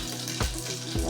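Cumin and mustard seeds drop into hot oil for dal tadka, a close, steady crackling sizzle with brief sharper pops that lasts only about a second.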